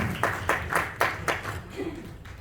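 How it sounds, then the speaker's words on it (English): Audience clapping at a client appreciation award party, a short burst of claps in a loose, fading rhythm, moderately close, with no talk over it. "Big round of applause, ladies and gentlemen."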